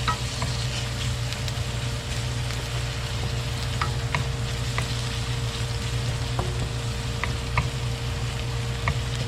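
Garlic and onion sauté in a pan for oxtail kare-kare, a continuous sizzle with scattered scraping stir clicks from a utensil and a low steady hum beneath, no talking.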